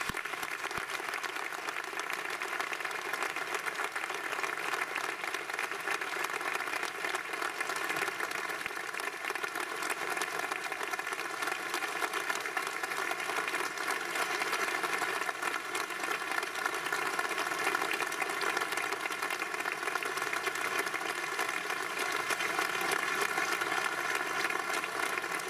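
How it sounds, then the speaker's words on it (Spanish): Audience applauding at the Riojano Ilustre award ceremony in La Rioja, a continuous, even wash of clapping hands from a large crowd, sustained steadily without pause. "Un aplauso."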